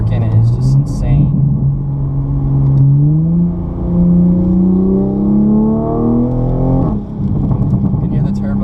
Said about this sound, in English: You can hear the turbo there a little bit.